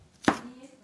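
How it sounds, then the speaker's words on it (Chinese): A single crisp knife chop on a cutting board, mincing beans for radish vegetarian balls, a short sharp knock alone in a quiet kitchen. "切成末"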